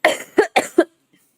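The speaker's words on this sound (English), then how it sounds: "because I have a cough" Two sharp coughs, each a quick double burst, close and loud, followed by silence.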